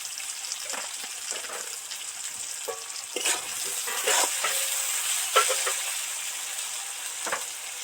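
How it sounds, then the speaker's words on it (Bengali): Onion and tomato frying in oil crackle in a steady, soft sizzle with scattered pops and occasional scraping stirs, heard alone without talk. "পেঁয়াজ টমেটো তো ভাজতেই দিয়েছি সফট সফট করে ভাজা হতে থাকছে"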